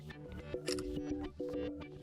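A Samsung Galaxy S23 camera shutter fires on a voice command, giving brief click-like bursts over steady background music.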